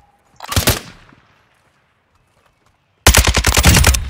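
Gunfire in the video game Warzone 2 DMZ: a short burst of automatic shots, then after a quiet pause a longer, louder rapid string of shots close by.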